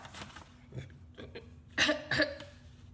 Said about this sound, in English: I think I'm coughing up a hairball.